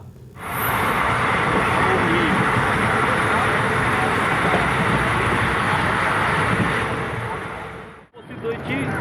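A Black Diamond Express passenger train from Howrah rumbles steadily with a loud, continuous roar and wind rush, close and unbroken, with a brief dip near the end.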